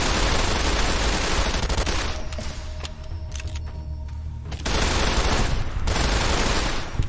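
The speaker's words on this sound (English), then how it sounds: "Shot that guy so hard he fell." Dense automatic rifle fire from the game Fallout: New Vegas, loud and continuous bursts that drop back briefly midway before resuming at full intensity, with no talk over it.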